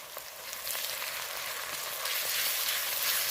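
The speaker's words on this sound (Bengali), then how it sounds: "বড় চামচে এক চামচ মতো রসুন আর পেঁয়াজ একটু লাল করে ভেজে নিয়েই" Garlic paste and onion frying in oil, a steady hissing sizzle like light rain, close and growing slightly louder, with faint stirring ticks and no voices.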